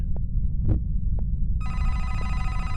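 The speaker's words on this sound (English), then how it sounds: "Oh, there's the phone." A telephone rings in a horror video game, a bright electronic bell that starts partway through over a low rumbling ambience, following a few soft thuds.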